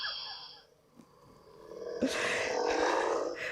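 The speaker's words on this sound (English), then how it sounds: "and I saw a bear" A bear roar sound effect from a children's story app: a low growling roar that swells from about two seconds and holds loud to the end, after a quieter opening with a faint tone.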